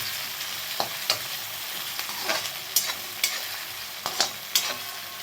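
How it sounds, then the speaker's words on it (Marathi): Onion and tomato frying together in a pan for a potato curry, a steady sizzle broken by sharp clinks and scrapes from stirring at irregular intervals, close and moderately loud with no talk. "टोमॅटो पण आपल्याला कांद्याबरोबर भाजून घ्यायचं आहे व्यवस्थित."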